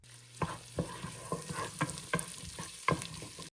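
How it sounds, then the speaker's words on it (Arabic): Finely chopped onion sautéed in butter in a pot, a spoon scraping and stirring in repeated quick strokes over a soft, quiet sizzle. "احط البصل عليها وافضل اشوح في البصل لحد ما يبقى قريب من بصل الكشري"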